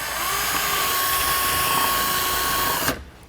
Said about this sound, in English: Now we're going to drill out the hole for our airline tube.